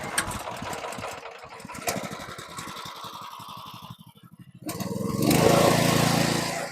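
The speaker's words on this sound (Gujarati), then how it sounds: "આ એકો ટ્રેક્ટર ચાલુ થઈ ગયું છે" A small single-cylinder engine on a single-wheel mini tractor chugs steadily nearby, briefly dips, then revs up louder and rougher toward the end.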